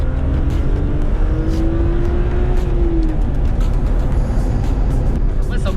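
A 286 hp BMW M3 E36 with its stock exhaust, heard from inside with a steady loud engine note and a rising whine as it pulls, and a voice talking in French over it.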